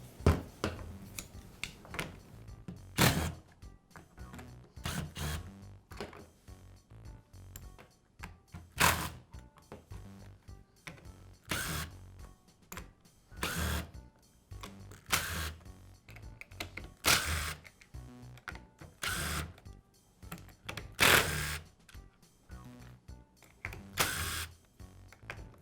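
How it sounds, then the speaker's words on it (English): Screws are removed from the plastic housing of a Black and Decker trimmer, a faint series of irregular clicks and ratcheting screwdriver taps with occasional louder plastic knocks, spread over a quiet background. "Now we'll remove the screws that secure the two halves of the housing together."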